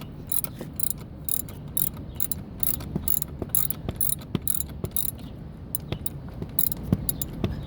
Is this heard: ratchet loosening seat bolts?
yes